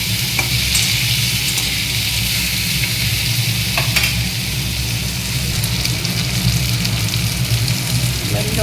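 Potato and eggplant frying in a pan with tomato, a loud, dense, continuous sizzle close up and a low background rumble beneath it, with no talking.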